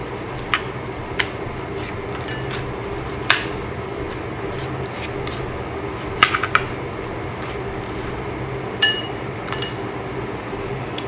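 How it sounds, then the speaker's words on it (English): Tomatoes dropped into a bowl in a home kitchen while making Italian-style pasta salad, a series of light, scattered clinks and taps over soft background noise. "what I'm going to do is put all these tomatoes in my bowl"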